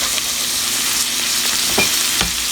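Sun-dried tomatoes and caramelized onions fry in olive oil with a loud, steady close sizzle, broken by a couple of soft stirring knocks.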